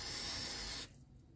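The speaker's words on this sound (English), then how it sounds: "Some brake cleaner and a spray inside the port" Brake cleaner sprays from an aerosol can into a port of a 1.4 Golf Mk1 engine during a rebuild, a close, loud hiss lasting under a second before cutting off to quiet.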